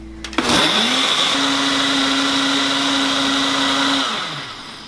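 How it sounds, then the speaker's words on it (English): A blender whirs loudly at high speed for several seconds mixing a frozen root beer float slush, its motor pitch steady before winding down at the end. "we're gonna hit the blender"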